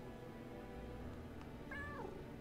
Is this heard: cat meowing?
yes